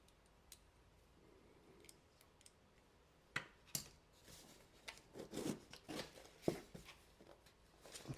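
A butterfly razor knife slices into a cardboard shipping box, quiet scrapes and clicks at first, then a cluster of sharper cutting and ripping bursts up close.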